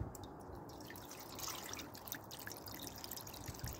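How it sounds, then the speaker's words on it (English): Water trickles and drips from a watering can into a greenhouse setup, a steady soft pouring patter that stays continuous and fairly quiet throughout, with no voices. "Got my watering can. Let's just put some on."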